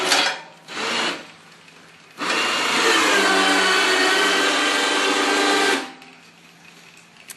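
A cheap electric winch on a homemade plow mount whirs steadily for about three and a half seconds as it raises and lowers a snow plow blade on a Yamaha, with a couple of short motor bursts before it.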